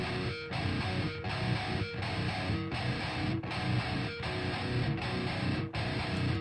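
A heavily distorted metal guitar tone from the STL Tone Hub plugin's PV6505 patch, scooped of mids, plays dense chugging riffs with short rhythmic breaks, loud and saturated.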